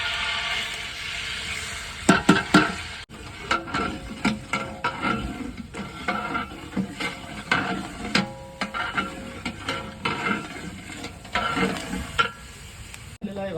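Onions frying in about a kilo of oil in a large pot for a village-style kandoori mutton, a steady close sizzle with repeated scraping and stirring knocks from a spoon against the metal.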